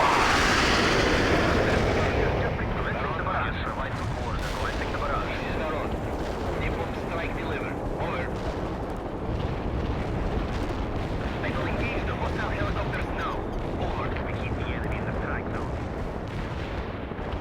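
Incoming artillery shells bursting in the World in Conflict strategy game, a sustained roaring wash of explosions and distant gunfire that stays loud throughout, with occasional sharper impacts.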